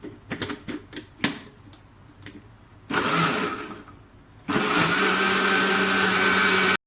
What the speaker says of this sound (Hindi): थोड़ा सा और ग्राइंड करेंगे ताकि अच्छी तरह से हर चीज़ ग्राइंड हो जाए।